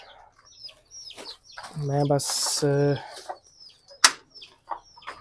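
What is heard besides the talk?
chicks and hen clucking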